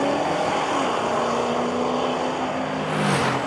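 A 1953 Chevrolet drag car charging down the strip at a Drag Week race, a loud, steady engine roar holding a sustained pitch throughout, close and unbroken with a brief rising sweep near the end.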